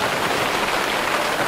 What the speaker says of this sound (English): A little bit of rain, a little bit of thunder